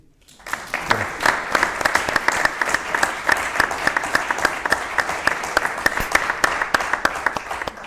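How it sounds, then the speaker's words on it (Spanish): An audience applauds steadily at a live talk-show taping, many hands clapping densely and evenly for several seconds with no voices over it. "Por favor, aplaudid."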